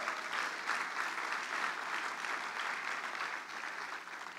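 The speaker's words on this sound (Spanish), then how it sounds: "dale un aplauso al Señor" A congregation applauds steadily during a Spanish-language church service, a dense, even wash of clapping that holds at full strength for the whole stretch without any voices on top.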